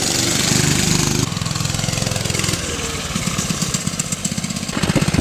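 A 1970 Rupp Roadster 2 mini bike engine runs loud and close, a rough, buzzing mid-pitched drone that shifts pitch as it revs up and down throughout, with no talking.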